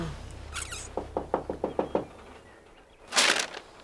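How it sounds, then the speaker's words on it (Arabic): Someone knocks on a door with a run of seven quick, sharp raps in even rhythm, followed by a louder, noisier bang or rattle a moment later. "مو سمعتي للباب؟ ايه والله ايه والله الباب"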